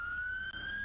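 London Fire Brigade fire engine siren in a video game, a steady loud electronic tone holding one pitch throughout the short stretch, with a brief dip midway and no talk.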